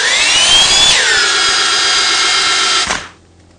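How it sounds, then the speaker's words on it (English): A cordless drill whines at high speed spinning another drill used as a generator, drops to a lower steady pitch after a second, then spins down and stops. "with my cordless drill spinning the other drill"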